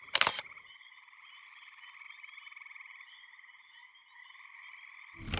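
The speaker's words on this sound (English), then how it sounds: "there's a huge frog right there" A huge frog beside Radnor Lake croaks in a long, steady, trilling call that holds for about five seconds, close and clear, bracketed by brief clicks at the start and end.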